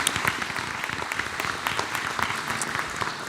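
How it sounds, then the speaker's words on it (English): An audience applauds a school band at a December board of education meeting, giving steady, moderately loud clapping with individual claps audible in the mix. "Let's give them one more round of applause."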